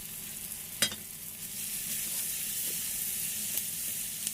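Onions sizzle and fry steadily in a hot pan on the stove, a continuous hissing crackle with a single sharp clink of stirring near the start and faint scraping later.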